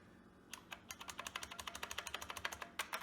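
Keys on an IBM Aptiva computer keyboard are pressed in a fast, steady run of sharp clicks, about twenty distinct taps over a few seconds, close and clear with no talking.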